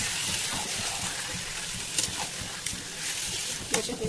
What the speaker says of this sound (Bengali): এবার আমি এর মধ্যে অ্যাড করবো আমার ম্যারিনেট করে রাখা মাটনটা।